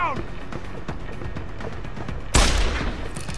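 Gunfire in the video game Deus Ex: Human Revolution, a series of sharp shots popping over background game noise, capped by one louder, brighter blast near the end.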